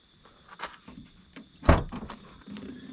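The trunk of a 2020 Peugeot 2008 1.6 automatic is opened: a few light clicks and rustles lead into one sharp, close thunk of the lid mechanism, followed by quieter handling sounds.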